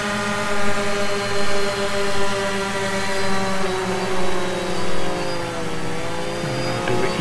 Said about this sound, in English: about half throttle takeoff and then coming back down